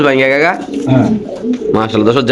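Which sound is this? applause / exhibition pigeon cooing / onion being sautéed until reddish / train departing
exhibition pigeon cooing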